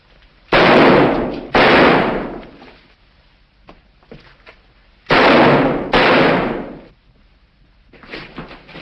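Gunshots in a 1943 black-and-white Sherlock Holmes film: four loud, booming blasts come in two pairs, each with a brief echoing tail, followed by quieter rustling and thuds.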